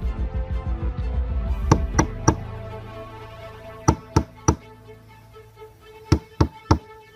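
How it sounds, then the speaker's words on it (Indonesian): Three groups of three crisp knocks on a wooden door, each group evenly paced with pauses between, after a soft low thumping at the start. "Setelah 3 kali ketukan pintu"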